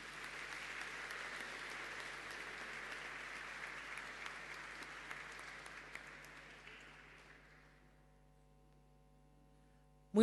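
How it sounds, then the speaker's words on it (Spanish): An audience at a Chilean seminar on neighbourhood councils applauds steadily for several seconds. The clapping fades out into near silence, and a sharp sound comes right at the end. "Un aplauso, por favor."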